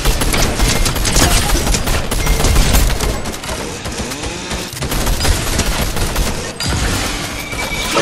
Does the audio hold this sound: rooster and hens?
no